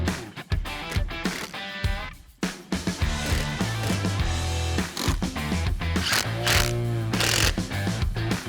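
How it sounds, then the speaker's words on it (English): Ratchet wrench tightening windshield mounting hardware on a 2024 Polaris RZR XP, with close, loud rapid clicking bursts in repeated strokes alongside clanks and mechanical handling noises. "Now we're going to go through and fully tighten all of our hardware."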